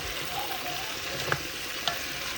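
Food sizzles steadily in a pan while a spoon stirs it during home dinner cooking. There is a constant frying hiss with two brief utensil scrapes or clicks.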